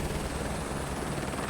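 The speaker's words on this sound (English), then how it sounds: "scenic helicopter ride through the valleys" A helicopter flying in Microsoft Flight Simulator on a scenic valley route through the Lahaul and Spiti loop, with a loud, steady, close rotor and engine drone filling the cabin and no voices.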